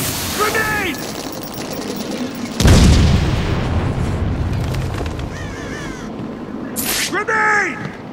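A grenade goes off in Batman Arkham City as one loud, deep boom midway that rolls off slowly, with shouting voices and chatter before and after.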